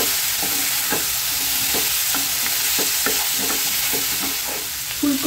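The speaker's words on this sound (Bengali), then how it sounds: "ফুলকপির সাথে মশলাটা আমার বেশ ভালো কষানো হয়েছে।" Cauliflower being stir-fried with spice masala in a hot pan: steady loud sizzling with rhythmic scraping strokes of a spatula roughly every half second, close up, no voices.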